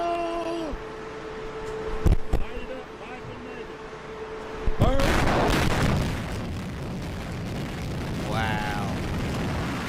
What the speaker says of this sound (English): Those are explosions.